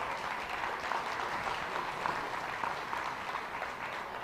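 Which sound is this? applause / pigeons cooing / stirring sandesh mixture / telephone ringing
applause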